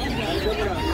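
Ducks and other fowl honk and quack in a busy poultry market beside a railway line in Krishnanagar, the calls blending with crowd chatter in a continuous dense din.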